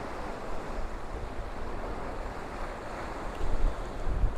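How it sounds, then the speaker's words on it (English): Sea waves wash over rocks beside a harbour pier at St Monans as the tide goes out, giving a steady, loud rush of surf and wind with a slightly stronger surge near the end. "with the tide going out, there's going to be less and less water on that rock, so I've got to wait for the bigger wave to come in"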